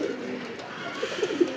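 A pigeon gives a brief, low cooing call, a few soft throaty pulses close by over a faint steady hum.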